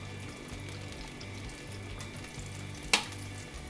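Eggplant and bacon sizzle steadily in a frying pan for a garlic soy sauce pasta, a soft, even crackle with one brief clink near the end.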